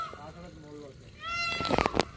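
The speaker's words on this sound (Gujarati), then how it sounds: "જો મોરલા બોલે" Peacocks call at dawn at a farmhouse beside an overflowing pool, with a few sharp, loud, wavering cries rising near the end over faint background noise and a voice.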